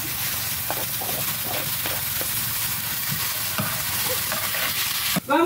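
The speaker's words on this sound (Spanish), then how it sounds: "La cebolla y el chile ya está frito. Vamos a agregar el jitomate." Tomato hits a pan of frying onion and chile, bringing a steady sizzle with scraping stirs, then a sudden burst of louder hiss near the end.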